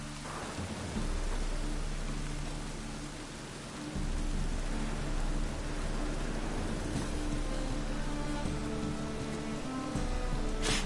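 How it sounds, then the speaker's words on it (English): Steady rain falls in the Witcher 3 video game, a dense continuous hiss with low rumbling beneath, louder after a few seconds and holding alone without any talk. "Rain again. Damn mages."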